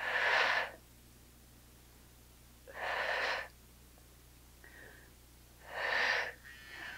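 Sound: exhaling during an upper body weights workout

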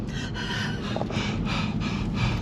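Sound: heavy breathing at high mountain pass altitude

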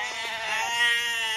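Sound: sheep bleating in a cartoon

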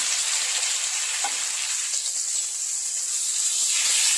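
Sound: chopped onions and green chilies sizzling in frying pan

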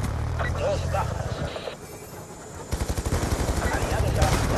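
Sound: gunfire in Call of Duty Black Ops II video game

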